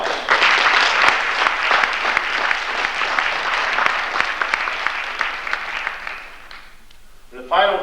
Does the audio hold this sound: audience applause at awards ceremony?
yes